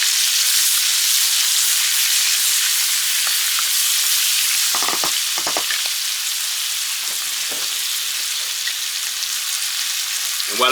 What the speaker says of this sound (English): So now we take the 3 cups of spinach, dump that in, and let that cook down.